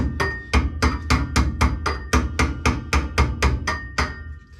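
A tool used as a hammer strikes metal about fifteen times in a steady, even rhythm, loud and close, with nothing else heard.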